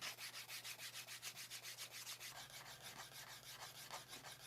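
A multi-tool burnisher rubs quickly back and forth along the edge of a leather dog collar, a soft rhythmic swishing of about twenty close, even strokes.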